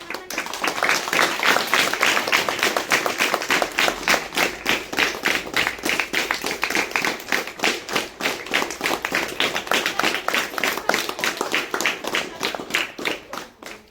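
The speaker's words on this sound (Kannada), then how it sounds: "ಇವರಿಗೆ ಜೋರಾದ ಚಪ್ಪಾಳೆಯ ಮೂಲಕ" Loud, sustained applause from a crowd at a Republic Day school celebration, honoring the teachers; dense rapid hand claps continue steadily throughout without pause.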